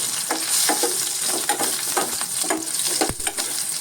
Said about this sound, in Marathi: तेल तापत ठेवलंय आणि त्याच्यामध्ये ह्या मिरच्या घातलेल्या आहेत